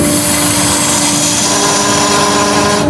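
Wood-turning lathe clearance cut on a timber vase, a continuous loud whirring hum with steady tonal drone and a rough tool-on-wood rasp, close and unbroken throughout.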